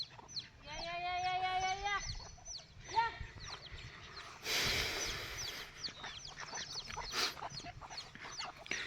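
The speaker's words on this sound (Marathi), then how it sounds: "त्याचं बोलवलं की तिच्या मागं कोंबड्या येते." Chickens kept in a small backyard coop on a village farm cluck and crow in repeated bursts at close range over rustling and a brief gust of noise, with no clear talk.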